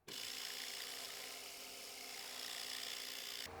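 Sandpaper rubbing steadily against a small wooden ship model piece, a close, even, continuous scratchy hiss lasting a few seconds before stopping abruptly.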